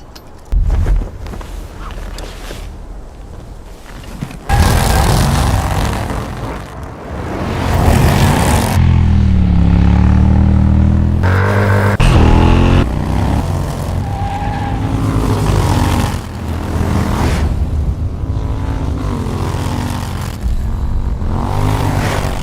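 Supercharged drift bagger motorcycle of 165+ horsepower being ridden, its loud engine surging and revving up close through repeated bursts of acceleration, with tire noise mixed in and no talk.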